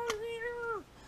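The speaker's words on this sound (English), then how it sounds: "Larry, where you at, kitty kitty?" A single drawn-out cat meow, clear and close, rising and then dropping off at the end against a quiet background.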